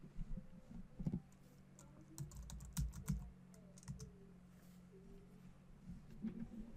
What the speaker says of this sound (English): and we can type in circle here